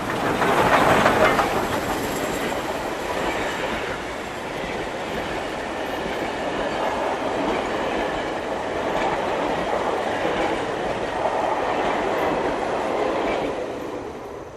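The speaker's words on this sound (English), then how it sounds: "The train makes a spectacular run past at a grade crossing." A train running past at a grade crossing on a Southern main line near Atlanta, steady loud rumble and rail noise throughout with a louder swell at the start and clickety-clack of wheels, no talk.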